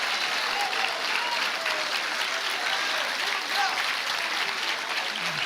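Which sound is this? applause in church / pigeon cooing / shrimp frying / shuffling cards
applause in church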